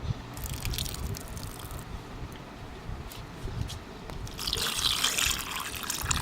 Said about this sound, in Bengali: আবারও একবার এই জলটা ফেলে দিয়ে পরিষ্কার জল দিয়ে ধুয়ে নেব